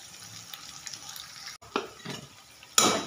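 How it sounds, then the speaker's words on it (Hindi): Tomato and spices are stirred in a cooking pan, with metal utensil scrapes and clinks, a soft sizzle underneath, and a sharper burst of clatter near the end. "अच्छे तरीके से मिलाएंगे"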